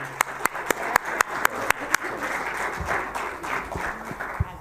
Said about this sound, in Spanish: Les despedimos con un fuerte aplauso